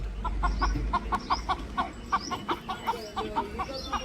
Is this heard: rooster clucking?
yes